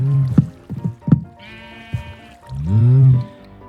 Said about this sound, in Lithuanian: Ne, avis eina valgyt, avis eina valgyt.